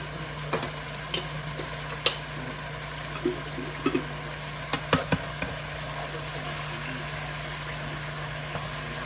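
Fresh garlic cloves are stirred into a pot on the stove, with soft scattered scrapes and taps of a spoon over a low steady hum, fairly quiet and without talk.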